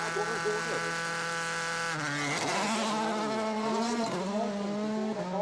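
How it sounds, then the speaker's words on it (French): A WRC rally car at the 2014 Rally Sweden stage Värmullsasen, its engine note shifting pitch steadily as the mapping changes for full power, a continuous buzzing drone with rising and falling harmonics heard from inside. "On entend le bruit de la voiture qui est différent, parce qu'en fait il change la cartographie pour avoir toute la puissance."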